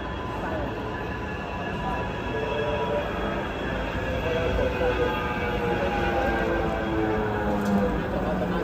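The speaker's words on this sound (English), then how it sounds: "I'm gonna go now and get the tram to Piccadilly" A Manchester tram at a station, with loud, close rumbling and rolling wheel noise, a thin metallic squeal of wheels, and a steady mechanical drone that builds slightly toward the end.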